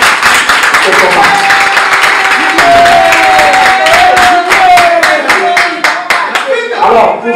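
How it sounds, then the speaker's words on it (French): An audience at a press conference for a Congolese musician claps in a loud, sustained round of applause close by, with a voice speaking over it. "je vous demanderai d'applaudir"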